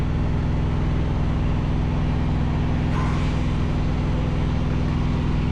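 A truck's auxiliary power unit runs with a steady, loud mechanical drone and low rumble, unchanging throughout with no voices.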